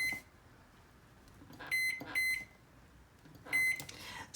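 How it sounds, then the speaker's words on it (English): Several short electronic beeps come from an oven timer as it is set for cooking chicken thighs, arriving in small clusters of tones with quiet gaps between them and no talking. "we're going to start the timer"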